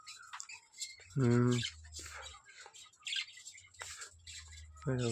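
Budgerigars squawk and scuffle inside a nest box, sharp high chirps and scratchy calls coming in close, irregular bursts, with a louder harsh call near the start and another at the end.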